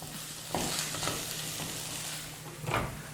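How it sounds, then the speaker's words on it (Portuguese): Calabresa sausage frying in a pan with oregano and black pepper, a quiet steady sizzle with a few soft stirring scrapes, close and alone. "E vamos dar essa fritadinha na nossa linguiça aqui."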